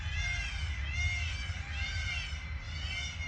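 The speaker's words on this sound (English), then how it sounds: "What sounds like cats in distress is actually the peacocks." Peacocks calling loudly at a botanic garden arboretum, giving repeated cat-like wailing cries that rise and fall in three long swells over a low background rumble.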